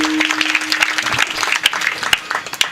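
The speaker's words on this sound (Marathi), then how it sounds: "गावासाठी एकदा टाळ्या वाजवा." An audience claps at a village gathering, a lively burst of close, bright hand claps with a few sharper individual slaps standing out.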